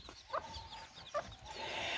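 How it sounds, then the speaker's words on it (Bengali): Native village chickens in rural Bangladesh cluck twice in short separate bursts against a quiet outdoor background, faint and at a moderate distance. "মুরগি পালা হচ্ছে দেশি মুরগি"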